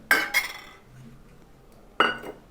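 A metal spoon stirs butter into a pot of corn and vegetable soup, striking the pot rim in two quick clinks and then one more after a quiet pause, close and clear.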